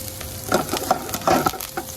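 Garlic and fresh herbs hit hot olive oil in a pan, giving a soft steady sizzle with a few louder crackling bursts as the food is stirred, close and moderately quiet, with no talking.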